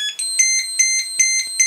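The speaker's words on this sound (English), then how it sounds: "We're going to throw a buzzer on." Location buzzer on an XGlow Pro glow ignitor gives a rapid series of about eight sharp, high electronic beeps, evenly spaced, loud and close, with no talking.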